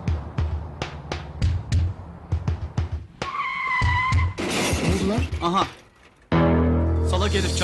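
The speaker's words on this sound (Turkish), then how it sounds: "Çarptı arabayı ya." A car skids with a sharp tire squeal, then slams into something in a loud crash with shattering glass and clattering debris, close and loud, followed by a brief lull and more noise; voices are heard around it.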